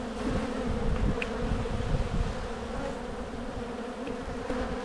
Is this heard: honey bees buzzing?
yes